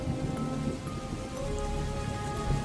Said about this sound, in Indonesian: malam itu diguyur hujan deras banget